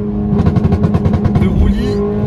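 A Peugeot 208 GTI pulls out of a corner under throttle, its engine note close and loud with a rapid pulsing texture and a slight pitch rise over a couple of seconds.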